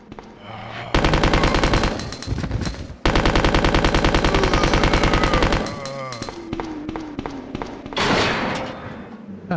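Rapid automatic gunfire from Resident Evil 2 (1998, GOG version), loud bursts of machine-gun-like shots in two long runs, followed by thuds and a voice talking over the game sounds.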